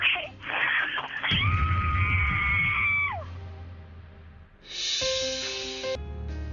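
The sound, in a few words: person screaming as loud as they can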